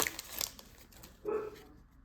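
Pet dogs indoors give a short bark or whine near the end, moderately loud, after some rustling and crinkling of packaging during a card-pack opening session.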